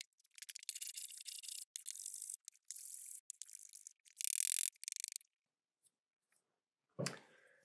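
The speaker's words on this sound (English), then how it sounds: "going to run this Hock iron through my whole normal sharpening setup" Hock and Stanley plane irons being sharpened on a full sharpening setup, heard as close, rapid scrubbing strokes in several bursts that stop, followed after a pause by a single solid knock.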